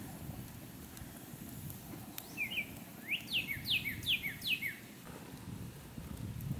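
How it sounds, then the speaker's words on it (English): A bird sings a quick series of rising chirps, five or six notes in a row, over a steady low rustling background. "Listen to the birds."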